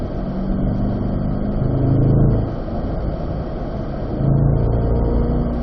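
A C8 Corvette at a driving school on a race track, its engine droning steadily and swelling in two loud surges as it accelerates, heard close from inside the car.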